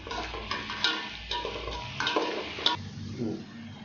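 Onion and garlic, with fenugreek, fry in oil for a Tamil fish curry. A spoon scrapes and stirs in repeated strokes over a soft, close sizzle, with no voices.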